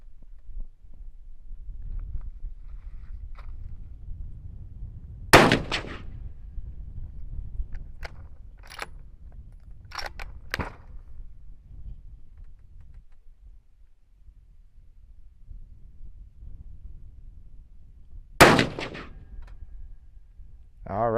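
Two sharp, loud rifle shots from a Ruger American 6.5 Creedmoor, fired several seconds apart during a three-shot group at a range, with quieter clicks and handling noises between them.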